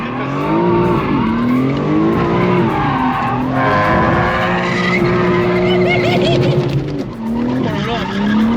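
A 700 hp BMW M4 doing a burnout, its engine roaring and tyres squealing in long sweeping tones, loud and close while people talk and react over it.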